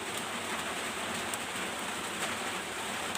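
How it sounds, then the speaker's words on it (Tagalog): Heavy rain pouring steadily on a surface at night, a dense constant hiss with no voices, close and unbroken throughout. "Lakas ng ulan."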